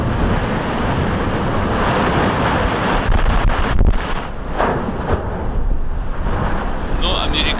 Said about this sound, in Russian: И смотрите, что творится с океаном.